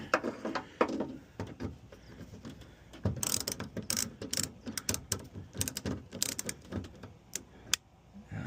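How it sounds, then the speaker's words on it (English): A ratchet fitted with a 10mm socket turns a bolt on the back hatch of a Chevrolet Trailblazer under restoration, close rapid clicking bursts in repeated strokes with brief pauses between them. "we got our 10mm socket here"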